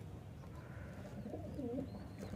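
Faint, soft cooing of a high flyer pigeon under a low background rumble, a few gentle throaty calls close by.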